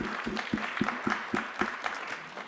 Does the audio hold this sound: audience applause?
yes